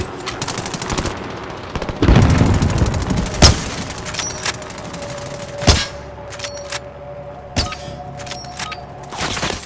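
Enemy gunfire in Call of Duty: Modern Warfare Warzone: sharp machine-gun bursts and single loud shots crack at irregular moments. Some reports sound close and punchy, others are lighter, over a low background rumble.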